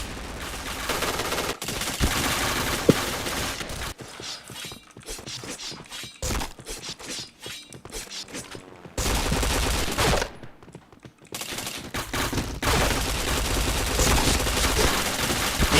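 Video game gunfire comes as rapid automatic bursts and rattling volleys separated by short pauses, loud and close throughout.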